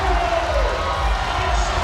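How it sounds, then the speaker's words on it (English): A swimming arena crowd in Toronto roars continuously during the closing 50 metres of a women's 800m freestyle race, a dense, loud wash of cheering. "The crowd in Toronto pumping her up."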